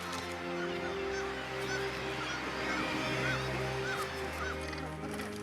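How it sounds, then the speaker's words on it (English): A colony of common murres calls on steep seabird cliffs, a dense, continuous layer of honking, growling cries from many birds at middle distance, with no talk. "Large populations of seabirds breed on the steep cliffs, such as common murres, whose young are now hatching."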